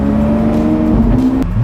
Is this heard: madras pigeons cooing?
no